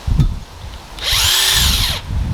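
A power impact wrench used while installing a lift kit on a GeoPro 12RK camper whirs loudly for about a second after a brief click, then cuts off, close by and alone.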